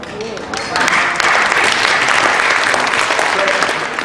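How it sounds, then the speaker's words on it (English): Audience applause at a Chinese cultural foundation event, building from lighter clapping into a full, loud, sustained round from the crowd that holds steady to the end. "That should really get a lot of applause."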